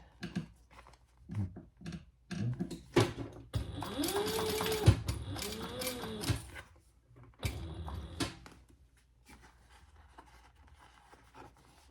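A sewing machine top stitches along the opened seams of a clear pencil pouch. It runs in several close bursts of steady whirring broken by short pauses, with no talking.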